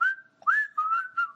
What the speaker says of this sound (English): And what were you whistling?